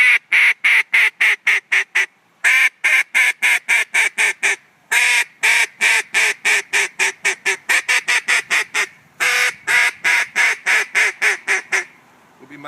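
A duck call blown by hand pours out long runs of loud, rapid, nasal quacks, bursting in quick series broken by short pauses, a comeback calling sequence meant to turn passing ducks.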